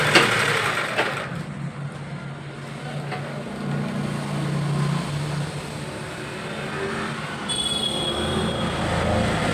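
A sewing machine stitches a round neckline on a garment, running with a steady mechanical whir and rattle that holds at an even level with slight swells.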